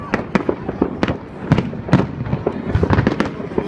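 New Year fireworks bursting in a rapid, irregular string of sharp cracks and booms, some close and loud, others farther off, over a continuous crackling background.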